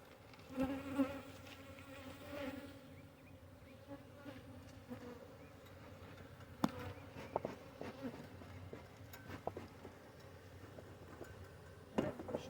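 Honey bees buzzing in an opened hive during a January brood check, a steady low drone of many bees close by, with faint clicks and handling knocks scattered through and no talk.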